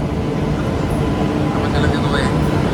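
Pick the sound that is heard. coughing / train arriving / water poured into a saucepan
train arriving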